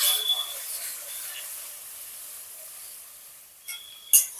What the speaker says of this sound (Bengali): এরপর আমি পরিমাণ মতো জল দিয়ে দেবো।